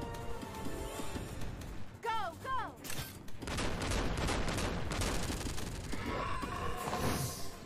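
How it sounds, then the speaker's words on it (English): Grenade launcher firing in the animated show RWBY, heard within a busy fight mix: bursts of blasts and crashes layered with whooshing effects and chirping tones, fairly faint overall, with a voice speaking briefly in places. "Oh, it's a grenade launcher."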